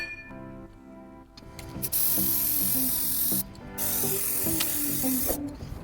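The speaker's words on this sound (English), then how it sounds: "masking off the wheel with some playing cards and tape before applying some self-etch primer" A spray can of self-etch primer hisses steadily in long close bursts over a Honda CB600FS front wheel, with short gaps between passes.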